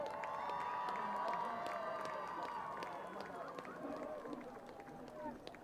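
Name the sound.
audience applause for the seniors and band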